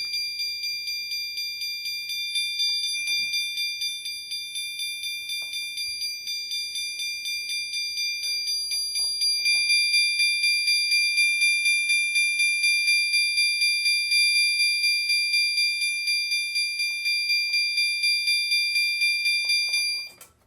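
A System Sensor L-series fire alarm chime-strobe runs a chime tone test, giving a loud, steady, ringing chime that repeats in quick pulses for about twenty seconds with no other sound, then cuts off abruptly.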